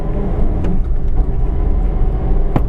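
A 2023 Suzuki Eeco cargo van's 1.2-litre petrol engine drones steadily from inside the cabin under acceleration through the gears, with road rumble, a couple of brief clicks and no talking.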